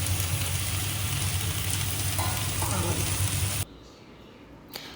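Mussels sautéing in a pan give a loud, dense sizzle with stirring scrapes, over a steady low hum, then cut abruptly to a quiet room with a faint clink near the end.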